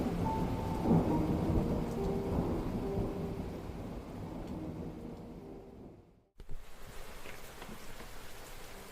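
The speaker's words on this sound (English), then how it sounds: "The episode opens with the sound of soft rain falling" Soft rain falls steadily with low rumbling thunder rolling underneath, the storm fading away, cutting to a brief silence, then returning faintly.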